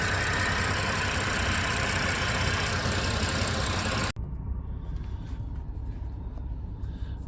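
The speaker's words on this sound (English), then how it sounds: "You do also hear some power steering noise when I am sitting in the car." A Porsche Panamera engine idles as a steady broadband rumble with power steering noise; the sound cuts off abruptly partway through, after which a quieter engine hum continues.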